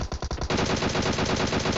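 Rapid automatic gunfire from PUBG Mobile, fired from a high rooftop position at a distant target, a loud, dense burst of rattling shots that turns into a continuous stream.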